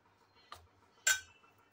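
A spoon mixes a semolina and flour mixture with hot ghee in a bowl. Two quiet, distinct metallic clinks stand out in near silence, the second sharper and ringing briefly.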